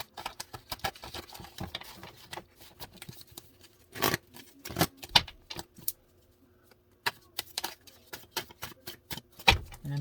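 Cards being shuffled by hand, a series of irregular crisp flutters and riffles with short gaps between them, close and fairly quiet, without talk.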